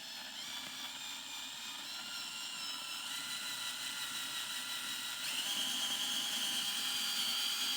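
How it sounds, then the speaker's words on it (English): A high-pitched electric drill whines steadily as it bores a hole for a drawer pull, its pitch rising slightly partway through, with a constant mechanical hum. "Apply the pressure and slowly drill."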